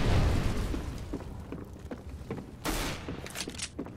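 A grenade goes off in a video game battle, a loud burst with a crackling tail, amid scattered gunfire and explosions. A sharper blast lands partway through.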